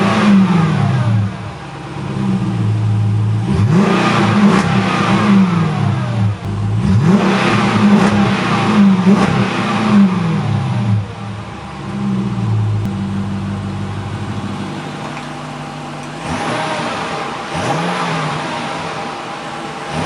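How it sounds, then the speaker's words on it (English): Jeep 5.7L HEMI V8 with dual exhaust cutouts revving repeatedly, loud rising and falling blips over a deep idle, several throttle pulls close by with pauses between them. "and then we'll give it some revs"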